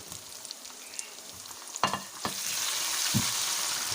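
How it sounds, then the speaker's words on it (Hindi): Tomatoes drop into a hot pan with golden ginger paste, with a few clacks and stirring thumps, then a steady loud sizzle rises and continues. "अब मैं इसमें टमाटर शामिल कर दूँगी।"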